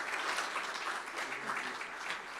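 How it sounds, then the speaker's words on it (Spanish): A church congregation at a Sunday service claps for a member, giving a moderate, steady round of applause that stays fairly even and somewhat distant throughout. "Démosle un aplauso a Fernanda."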